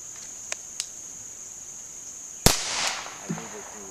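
A single loud handgun shot firing a 105 grain powder coated cast semi-wadcutter bullet at a target 8 yards away, a sharp crack with a brief ringing tail amid quiet outdoor insect chirping.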